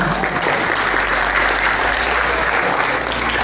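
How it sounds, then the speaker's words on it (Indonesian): Applause from a school audience at a junior high school event, a dense, even burst of clapping from many hands that holds steady and close for a few seconds without talk. "Tepuk tangan."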